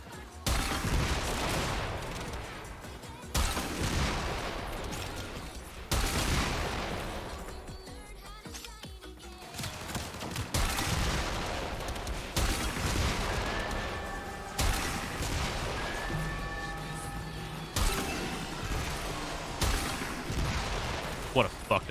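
Gunfire from a gun in the video game Warframe, loud repeated bursts and booming volleys over about twenty seconds, with brief lulls between bursts.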